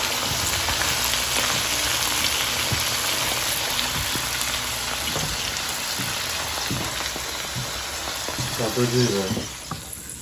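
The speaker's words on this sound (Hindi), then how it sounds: "आई थिंक भिंडी फ्राई हो गई है, सॉफ्ट हो गई है और ब्राउन भी हो गई है।" Okra (bhindi) fries in oil in a pan while masala bhindi is cooked, giving a steady broad sizzle throughout, with a few soft clatters near the end.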